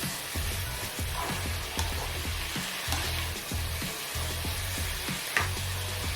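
Onions and tomatoes sizzling steadily in a frying pan while being mixed, with a rhythmic series of soft stirring scrapes over the continuous fry, close and without talk.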